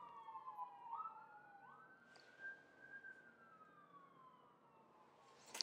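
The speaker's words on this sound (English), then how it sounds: "I hear sirens. Can you guys hear them?" A distant ambulance siren wails outside a house, its tone sweeping and gliding as it passes, faint and steady against a quiet indoor background.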